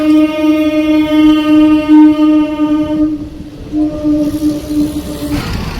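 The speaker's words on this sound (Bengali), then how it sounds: "ট্রেন আসছে" A train approaches with a loud, sustained horn blaring over rumbling rail noise; the horn cuts out briefly and sounds again.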